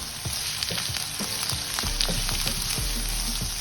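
Chopped onions and capsicums fry in a pan for an omelette, giving a continuous close sizzle with small crackles and occasional stirring scrapes.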